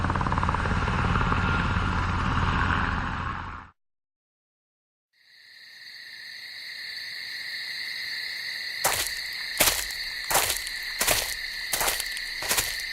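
A helicopter in the video game Resident Evil comes in to land. A loud rush of noise stops and falls silent, then a steady rotor whine builds, with rhythmic thumping blade beats joining toward the end.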